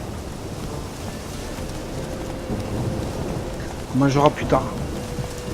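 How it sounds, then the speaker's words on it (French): Steady rain falls in the video game The Witcher 3, a constant hiss of drops with a low rumble, as someone briefly speaks near the end. "Je sais, il pleut."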